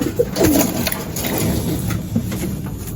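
Young racing pigeons coo in a loft, a few soft throaty coos early on against a steady background hum, close by and with no talk.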